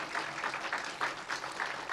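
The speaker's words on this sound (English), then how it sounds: "let's give them a round of applause" Brief, fairly faint applause from a small crowd at the reopening of a county animal shelter campus, a steady patter of clapping with no other sound.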